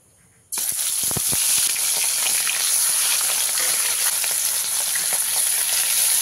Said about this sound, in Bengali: এবারে আমি মাছগুলো এক এক করে দিয়ে ভেজে নেব।